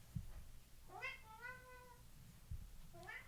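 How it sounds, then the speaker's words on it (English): A house cat meows twice, the clear rising cries spaced about two seconds apart and heard close, with a couple of soft thumps and no talk. "Hi, kitty."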